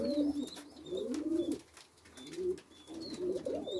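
Pigeon cooing in a nest box, soft rolling coos repeating in short phrases close by at low volume, with faint higher chirps in the background.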